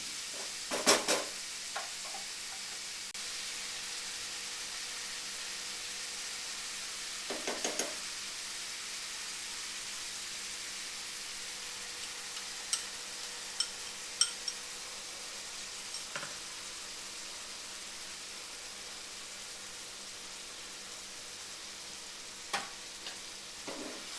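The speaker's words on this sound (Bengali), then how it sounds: "চিকেনটা আমার একটু ভাজা ভাজা হয়ে এসছে।" Chicken pieces frying for pepper chicken, a faint, steady low sizzle under background hiss, broken by a handful of brief scraping and clinking stirs against the pan at irregular intervals.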